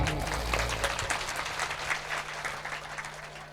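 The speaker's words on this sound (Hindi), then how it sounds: "एक बार के लिए सभी लोग जोरदार ताली दें।" Audience claps loudly and steadily at a Hindu devotional discourse in support of building a Lakshmi Narayan temple, a dense continuous applause lasting throughout with some crowd murmur beneath.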